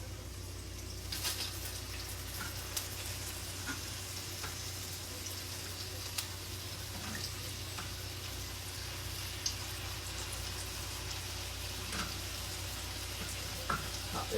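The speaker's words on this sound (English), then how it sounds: "it's time to put the pork chops on. So I'm just gonna drop them down in here." Pork chops frying in a pan on a home stove, a quiet, steady sizzle with faint crackles and pops throughout and no talk.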